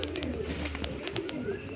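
Caged pigeons in a loft coo softly and close by, with low murmuring calls overlapping in a steady burble.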